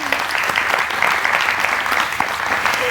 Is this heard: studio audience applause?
yes